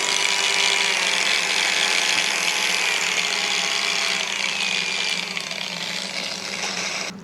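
A Duratech cordless polisher whirs steadily at top speed, a loud continuous buzzing whine that holds without pause for several seconds.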